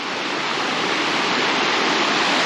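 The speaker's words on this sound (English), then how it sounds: "And then the little waterfall continues up there." Steady rushing water from a small waterfall near Leukerbad, Switzerland, a dense continuous splash close by with no other sounds.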